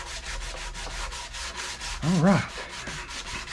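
Steady back-and-forth sandpaper rubbing on the wooden neck of a Telecaster-style electric guitar, close and continuous, with a short spoken remark near the end.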